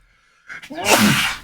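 A single close sneeze, a quick sharp intake followed by a loud explosive burst, alone without talk.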